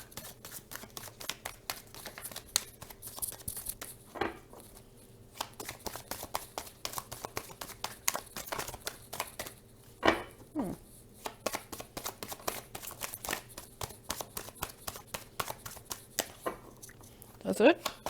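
Tarot cards are shuffled by hand in a rapid, continuous patter of soft riffling and slapping, close and fairly quiet, with brief pauses and a few louder handling knocks.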